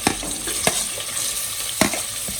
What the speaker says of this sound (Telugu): ముక్కలు వేసుకుని బ్రౌన్ కలర్ వచ్చే వరకు ఫ్రై చేసుకుందాం